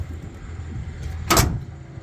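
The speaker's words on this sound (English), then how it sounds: "The doors close like brand new truck doors." A single solid door slam from an older Ford F250 4x4 pickup, one sharp close thud rising briefly above a low ambient rumble with no talk.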